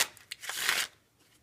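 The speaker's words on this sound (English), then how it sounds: "first I'm going to start off by giving this deck a complete shuffle here" A red deck of playing cards being shuffled, a quick close riffle lasting under a second with crisp papery rattling, then quiet.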